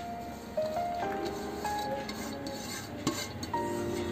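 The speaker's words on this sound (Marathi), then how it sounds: "मध्यम आकाराचे 2 कांदे मी बारीक चिरून घेतलेत, हे कांदे आपण ह्याच्यामध्ये घालूया।" Finely chopped onions go into mashed eggplant for bharit, giving quiet scraping and a few bright clinks of a spoon against a bowl, close and soft.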